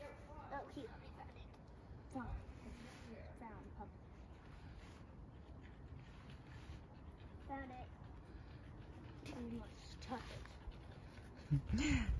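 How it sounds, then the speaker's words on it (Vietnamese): A dog pants heavily on a hot day, rapid rhythmic breaths close by with faint whimpers, while people talk softly in the background. "con chó mình nó thở phì phục phì phục phì phục"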